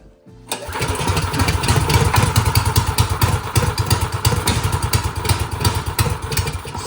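A Manco Dingo yard kart's small engine cranks and catches, then settles into a loud, close, rattling run with a steady rapid putter and clattering mechanical noise throughout.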